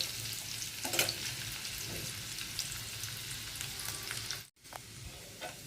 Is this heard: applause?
no